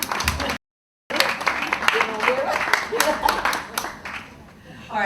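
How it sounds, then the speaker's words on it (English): An audience at a business leaders' conference applauds in a loose, dense patter that breaks off into brief silence, then returns and gradually tapers, with some voices underneath. "Applaud you all"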